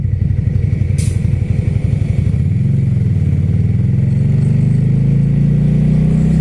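A motorcycle engine while riding, loud and close, a pulsing rumble that shifts pitch partway through as the rider changes speed, then settles into a steady drone.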